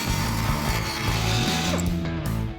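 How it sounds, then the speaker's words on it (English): Die grinder fitted with a carbide bit working down welds on a 1971 Chevy C10 build, a loud continuous whining grind with slight pitch shifts as the load changes, steady and close with no talking. "start grinding my welds with 36 grit on a grinder and"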